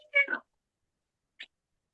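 A voice actress imitates a cat, giving a short, close meow-like vocal burst followed by a much fainter brief sound after a pause, with silence around them.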